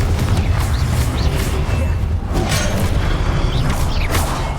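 Confringo spells are cast with explosion effects in Hogwarts Legacy. Loud, dense combat noise carries repeated booming bursts and whooshing spell effects, with mechanical creaks woven through, and voices are heard in the mix.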